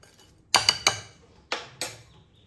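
Spoon clinks against a steel bowl while mixing aval (flattened rice) stuffing with sugar: three quick close metallic taps, then two more after a pause, with no talk.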